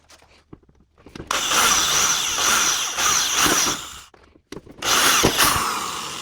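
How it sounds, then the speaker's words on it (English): A power drill whirs in two long, steady runs with a short pause between, drilling holes in armor, close and loud, with faint clicks and handling noise around it. "now we're going to take the armor off and drill those holes"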